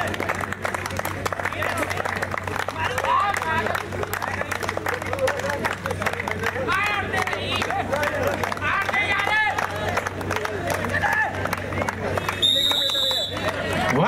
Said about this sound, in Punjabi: ਦੋਨੋਂ ਟੀਮਾਂ ਸੇ ਨਿਵੇਦਨ ਤਾਲੀਆਂ ਸੇ ਸਵਾਗਤ ਕੀਆ ਜਾਏ